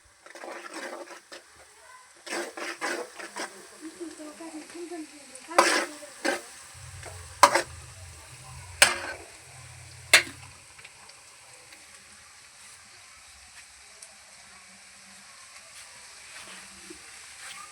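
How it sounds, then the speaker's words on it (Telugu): Chopped onions and green chillies frying in hot oil tempering, with a soft steady sizzle under scattered scraping and stirring clinks of a spoon on the pan that come in short bursts and then fade to a quiet hiss. "ఉల్లిగడ్డలు వేగుతున్నాయి."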